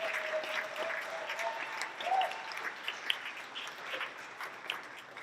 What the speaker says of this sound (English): Please, a round of applause for those partners